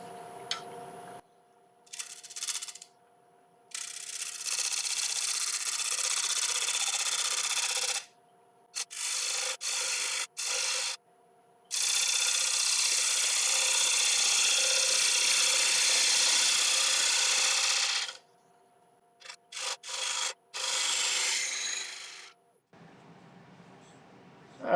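A 3/8-inch ball gouge cuts a split oak platter on a wood lathe running around 900 RPM. The cutting makes a rough, raspy rubbing in long sustained passes, broken by short bursts and pauses.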